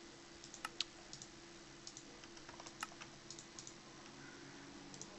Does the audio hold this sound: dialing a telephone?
no